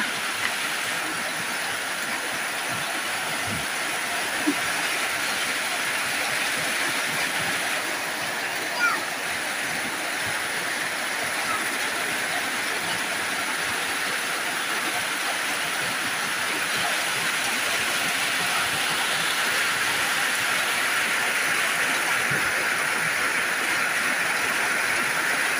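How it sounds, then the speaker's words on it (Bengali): Heavy rain drums on a tin roof of a tin-walled house, a dense, steady roar that holds evenly throughout with only a couple of faint knocks. "টিনের চালে বৃষ্টি পানি পড়ছে"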